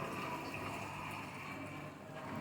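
Half a cup of water pours into a cooking pot of pumpkin sabzi with raw mango, a quiet, steady splashing trickle lasting a couple of seconds with no voices.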